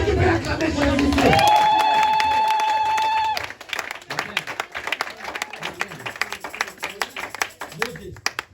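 A church congregation at a Sunday service bursts into applause and cheering, loud and dense for about three seconds with a sustained tone over it, then fades as a speaker's voice takes over.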